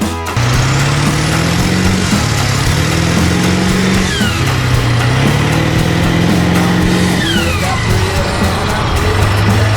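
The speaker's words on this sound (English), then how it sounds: "You can hear the turbo." Turbocharged engine of a mini big rig truck accelerating hard, a loud sustained drone with rising pitch and a high turbo whine sweeping upward across repeated gear pulls, with faint excited voices beneath.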